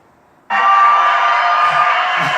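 A crowd in a replayed clip erupts suddenly into a loud, sustained roar of cheering and whooping that holds steady for about two seconds after a quiet start.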